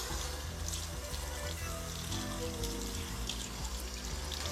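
Cold tap water runs and splashes steadily as a face is rinsed after shaving, a close, continuous wash of water with no pauses.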